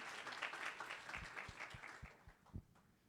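Audience applause at a community gathering on inclusive relations fades into a sparse scatter of individual claps, with a few louder isolated hand claps near the end.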